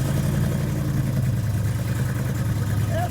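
A Pontiac Trans Am sits idling with a deep, steady exhaust rumble, continuous and fairly close, with no talk over it.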